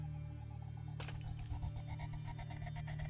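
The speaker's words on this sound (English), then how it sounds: "Sound of glass breaking in the hall, but it wasn't a window collapsing." Glass shatters in a video game, a sudden bright crash followed by a trail of tinkling fragments over a steady background hum, with no voices.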